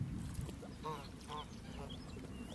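Geese resting beside the water give a few soft, short honks over a steady outdoor background hiss, with no one speaking.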